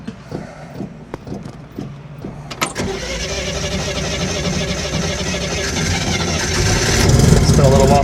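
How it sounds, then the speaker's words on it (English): A 1960 Chevrolet Corvair, an old car, cranks through several short starter bursts before catching and settling into a loud, steady idle that swells toward the end. "It took me a while to realize that on an old car, you have to crank this for a while."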